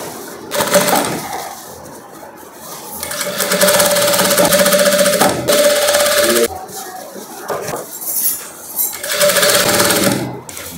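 An electric sewing machine stitches a folded hem on a long satin and crepe gown, running in loud bursts of fast, steady whirring with short pauses between runs, close up.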